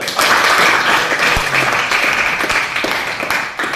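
Classroom or lecture audience gives a round of applause, a moderate burst of clapping that peaks early and then continues unevenly with individual claps standing out before tapering.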